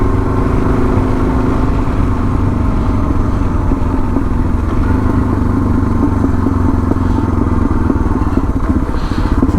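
A Suzuki DR 650 motorcycle loaded with full camping gear rides along with a continuous, loud engine drone and rumbling road and wind noise, steady and close for the whole stretch without talk.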